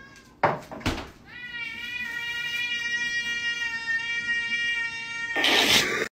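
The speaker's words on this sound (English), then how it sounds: "Bro got cat alarm system." A cat lets out a long, loud, drawn-out meow close by, with a few sharp knocks at the start and a rising yowl at the end.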